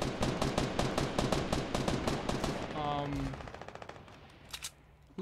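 Fortnite Team Rumble gunfire: rapid automatic bursts crackle loudly and continuously, then thin out into a few scattered shots and fade near the end.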